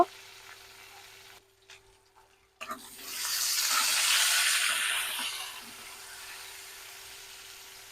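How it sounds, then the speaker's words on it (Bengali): Green plantain frying lightly in a pan, a broad steady sizzle that swells loudly after a brief quiet break and then eases off slightly toward the end. "কলাটা হালকা একটু ভেজে নিচ্ছি"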